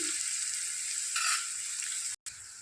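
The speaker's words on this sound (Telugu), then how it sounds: "ఇప్పుడు ఆనియన్స్ వేసుకుంటున్నాను. ఇది కొంచెం గోల్డెన్ కలర్లో వచ్చేంత వరకు ఫ్రై చేసుకోవాలండి." Onions fry in a pan with green chillies and curry leaves: a steady, loud, close sizzling hiss that swells briefly and cuts out for a moment near the end, with no talking.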